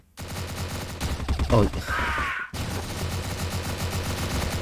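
Sustained automatic M16 rifle fire in the video game CrossFire, continuous rapid bursts of gunshots throughout, with a brief gap and a short exclamation over the shooting.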